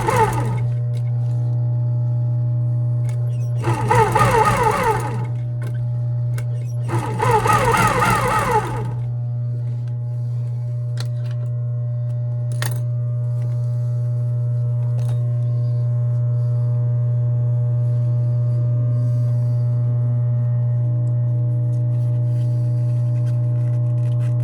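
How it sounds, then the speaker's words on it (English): A sewing machine runs a short sample stitch in two brief bursts a few seconds apart, each lasting about a second, over a steady low machine hum that continues alone throughout. "We're going to do a little sample stitch just to make sure that we got what we need."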